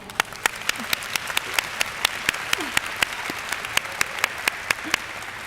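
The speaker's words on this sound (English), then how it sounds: "to give them a round of applause." An audience at a university education ceremony applauds students, a steady bed of crowd clapping with sharp, evenly spaced loud claps from one nearby person standing out above it.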